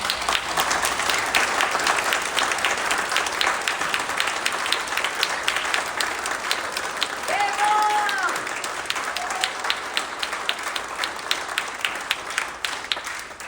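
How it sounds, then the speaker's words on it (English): Sustained audience applause fills a dinner room at a Gimli Glider anniversary event as Bob stands, steady dense clapping throughout with faint crowd murmur and a brief voice midway. "You deserve even one more round of applause."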